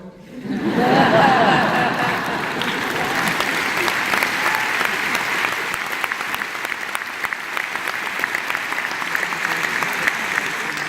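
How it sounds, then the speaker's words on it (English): Sustained applause from a large audience at an interfaith vigil honoring victims in Pittsburgh, swelling quickly and then holding steady as a dense, even wash of clapping for about ten seconds, with a few chuckles mixed in. "I know Governor Pataki appreciated the applause as well."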